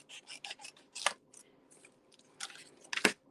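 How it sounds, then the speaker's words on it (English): Cardstock being trimmed with scissors for a punch, a series of short, crisp snips and rasping cuts in quick irregular bursts, close and fairly quiet. "So I'm going to have to trim this down because I didn't get it down low enough for the punch."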